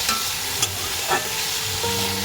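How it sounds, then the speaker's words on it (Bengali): Medium potatoes with salt sauté in a pan for a paratha filling, giving a steady sizzle broken by a few scraping stirs of a spoon against the pan, close and moderately loud with no talking. "আলুটা একটু কষে নেব এক থেকে দেড় মিনিট"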